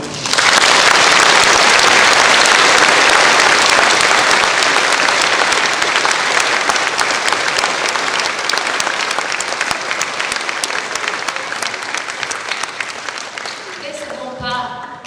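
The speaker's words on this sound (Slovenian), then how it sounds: "Tako da res vas prosim za en aplavz zanje." Loud, sustained audience applause fills a new school sports hall at the opening ceremony of a primary school extension in Moravče, gradually thinning out before a voice begins speaking at the very end.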